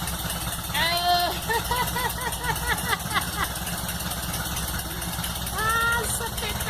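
A Volkswagen Beetle (Fusca) engine with a badly set fuel mixture runs and roars steadily up close, its rough idle swelling in a couple of louder surges, with people talking over it.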